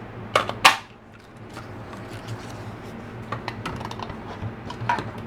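A paper circle punch snaps through white paper scrap with two sharp clicks near the start, followed by softer handling rustles and small clicks.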